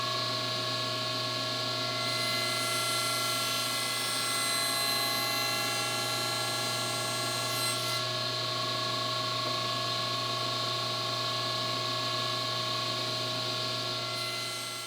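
A power saw runs continuously while cutting wooden table legs against the fence for a console table, a steady loud whining drone with a brighter high edge that swells midway, no voices.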